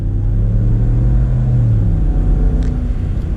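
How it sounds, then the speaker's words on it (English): A 2020 Ram 1500 Rebel 12 with a 5.7 liter Hemi V8 accelerates, a deep, loud rumble from inside the cab that rises steadily in pitch as the truck gathers speed. "Let's get in a little acceleration now with this Rebel 12"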